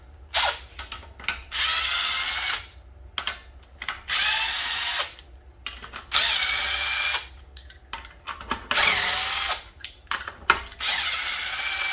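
A power tool whirs in repeated short, close bursts as lug nuts are spun off a 2005 Dodge Magnum wheel, with metallic clinks from nuts and tools between the bursts.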